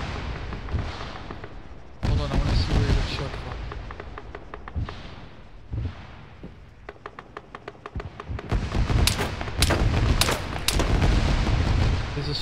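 Video game gunfire aimed at the player near a window: sharp cracking shots in rapid bursts, some single and spaced, others thick volleys toward the end, while players chat over the action.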